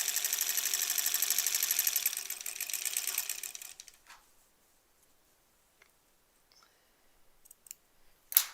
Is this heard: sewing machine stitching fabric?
yes